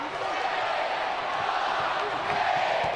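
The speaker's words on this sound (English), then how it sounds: "Listen to the crowd." A home crowd roars at a 1991 Kansas State versus Kansas college basketball game, a steady dense wash of cheering and noise across the arena with a slight swell near the end.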